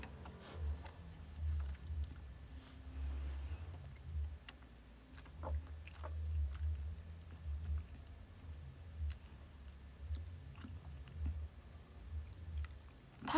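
Someone chewing food close to the microphone, soft repeated wet bites and mastication in an otherwise quiet room, with a few small ticks and clicks scattered throughout.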